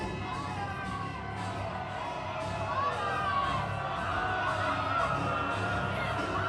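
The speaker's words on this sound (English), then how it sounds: "the crowd adamantly booing Kevin O'Doyle" A wrestling video game crowd boos Kevin O'Doyle with a loud, sustained roar of jeering voices and scattered shouts that swell slightly toward the end, with no pause.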